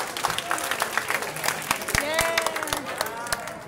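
Audience applause at a government tree lighting ceremony, a burst of clapping from a crowd lasting a few seconds, with voices mixed in.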